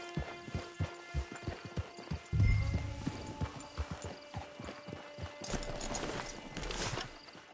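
Horse hooves clip-clop in a steady rhythm across Red Dead Redemption 2 open-world game terrain, fairly close and moderately loud, with a brief whinny-like burst partway through and no talk.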